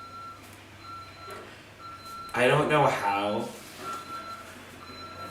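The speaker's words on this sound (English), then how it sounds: "the garbage truck comes like once a week here" A garbage truck's reversing alarm beeps at a steady, even pace in the background, while a person talks over it partway through and a truck rumbles nearby.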